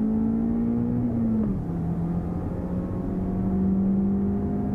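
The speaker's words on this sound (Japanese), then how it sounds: "スタート後しばらくは直線区間、ここで一気に加速する。" A car accelerates hard along the straight opening section of a high-speed test course, its engine a loud, sustained drone that dips briefly at a gear change and then climbs again, heard from inside.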